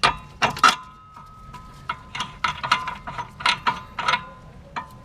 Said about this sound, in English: we're gonna go ahead and stick the screw back in there.